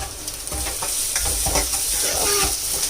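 Onions frying in a pan while being stirred, a loud continuous sizzle with rhythmic scraping strokes of a spoon throughout, close by and without speech.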